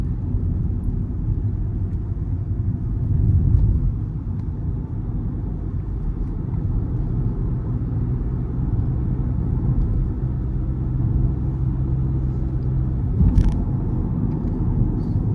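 A Honda City RS with a 1.5-litre naturally aspirated petrol engine and CVT gearbox accelerates, producing a continuous droning engine and road rumble at moderate level that stays fairly even throughout, with a brief knock near the end.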